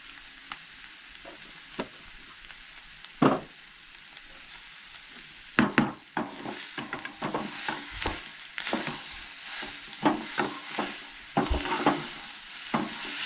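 Turmeric and spices fry in a hot pan for Goan egg curry with coconut, giving a steady soft sizzle broken by scattered stirring scrapes and sharper clicks, close and fairly quiet, with no talking.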